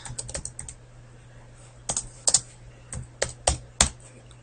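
Rapid computer keyboard typing, close and fairly loud, a quick burst of keystrokes followed by a pause and then several sharper, separate key presses, with no voices.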